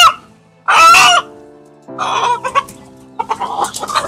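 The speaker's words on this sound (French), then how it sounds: "ça c'est un mâle issu de l'accouplement coquelet et poulet local pur." A crossbred male chicken, from a cockerel and a pure local hen, gives loud close clucks and a crowing call in short bursts separated by brief pauses.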